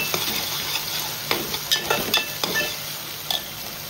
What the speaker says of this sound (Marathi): कांदा टाकूया. आणि स्लो फ्लेमवर व्यवस्थित शिजवून घेऊया.